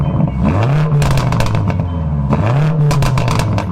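BMW F90 M5 Competition engine revving hard twice, each surge climbing then easing back with crackles and pops, loud and close with no talk.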